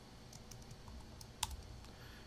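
A computer keyboard tapped while entering a git command, with a short run of light, quiet keystrokes at an uneven pace and one sharper key press near the middle, over a faint background hiss.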